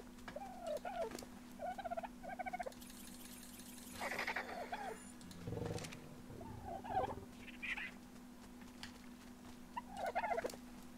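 Chickens in the video game ARK cluck and chatter in repeated short bursts, with a few louder squawks and rustles, over a steady low hum and no speech.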